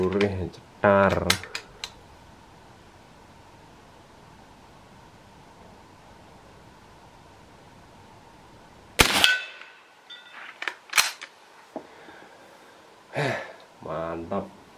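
An air rifle fires 36-grain hollow point pellets at 1260 fps: a few sharp, isolated cracks and metallic clacks break long quiet stretches, with short bursts of nearby voices.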